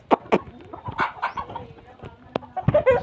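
Country hens and roosters cluck loudly and close by in a busy backyard coop, with overlapping calls and sharp squawks.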